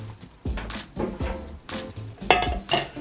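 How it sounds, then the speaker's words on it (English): Knife chopping scallions and shallots on a cutting board, with repeated crisp thuds and clinks spaced through the stretch, close and fairly soft, with no talk. "we're going to chop and slice everything that needs to be chopped and sliced, starting with the scallion and the shallots"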